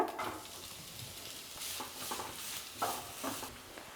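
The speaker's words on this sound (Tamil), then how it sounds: "எண்ணெய் சூடானதுக்கப்புறம் நான் 2 பெரிய வெங்காயத்தை பொடி பொடியாக நறுக்கி வச்சுருக்கேன், அதை ஆட் பண்ணிக்கோங்க." Chopped onions sizzle in hot oil in a kadai, a faint hiss broken by soft scraping stirs that repeat at an uneven pace.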